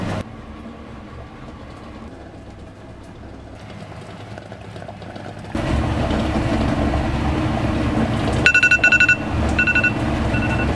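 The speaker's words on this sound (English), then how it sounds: "That was the timer" Kitchen noise rumbles along while eggs boil, then a high electronic kitchen timer beeps in short repeated bursts toward the end.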